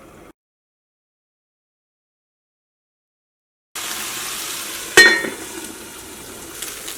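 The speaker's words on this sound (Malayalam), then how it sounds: "അടുത്തത് നമ്മൾ മീൻ വറുക്കാൻ വേണ്ടിയിട്ട് ഇടാട്ടെ" Fish frying in coconut oil in a home kitchen, a steady sizzle that starts abruptly after silence, with a sharp clatter as the pieces go in and a softer, continuing crackle afterward.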